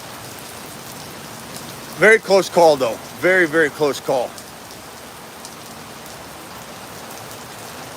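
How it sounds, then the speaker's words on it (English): Steady rain falls in Arizona as a continuous, even hiss throughout, with someone speaking briefly over it in the middle. "Enjoy the Arizona rain."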